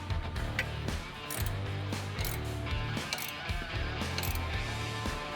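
A ratchet tightens the stud of a Fox x Kryptonite steering stabilizer on a GMT800/GMT900 truck, torqued to set the taper, giving close, steady, repeated metallic clicking strokes in a continuous rhythm with brief pauses between pulls.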